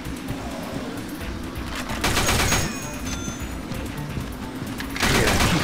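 Bursts of rapid machine gun fire from the video game Dead Trigger 2, two loud strafing volleys standing out over a dense, continuous background of game combat noise.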